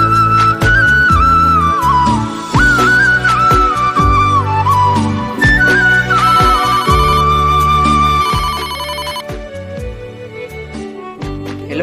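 A mobile phone ringtone rings loud and close, a repeating melodic tune over a steady beat, as a call comes in again and again.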